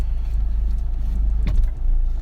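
An automatic car creeps slowly out of a tight parking spot during a driving lesson. A steady low engine hum runs close and loud throughout, with a brief rising swish partway through.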